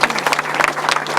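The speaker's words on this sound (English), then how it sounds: "A round of applause for winning this afternoon." Crowd applause at a 2009 grasstrack motorcycle race meeting, greeting the race winners at the prize presentation: a dense, steady patter of many hands clapping close by for just over a second, with a faint low hum underneath.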